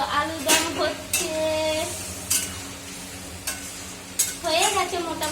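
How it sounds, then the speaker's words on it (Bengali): Aloo dum potato curry sizzling in a pan as a spoon stirs it, with steady frying hiss, scraping strokes and clinks against the pan close by. "আর এই যে আলু দম হচ্ছে"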